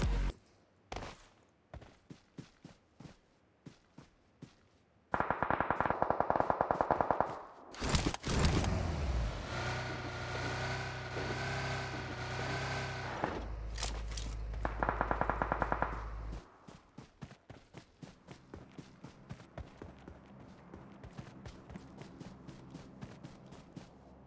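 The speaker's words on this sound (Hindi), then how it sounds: "सामने से मुझे फायरिंग का साउंड आ जाता है" In the mobile game PUBG, quick footstep-like clicks give way to loud sustained bursts of automatic gunfire mid-clip, then rapid clicking steps resume.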